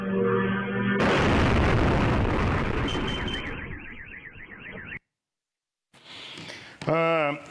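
Loud, booming explosions crack and rumble, followed by a wailing car alarm and a brief silence, then louder noise and a siren-like sweep at the end.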